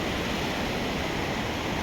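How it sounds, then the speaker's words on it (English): Steady, loud rush of a river in snowy Ponte di Legno, Italy, a dense continuous roar of flowing water close by with no voices. "And here's the river."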